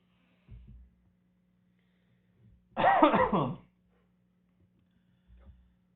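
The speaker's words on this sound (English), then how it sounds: "Well, I was coughing." One close, muffled cough stands out in a quiet room, with a soft low hum and a couple of faint thumps before and after.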